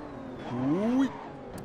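A race car on the Kyalami circuit in the Assetto Corsa driving simulator has its engine note rising and bending as it slides. The sound is steady and moderately loud, with a brief scrape near the end.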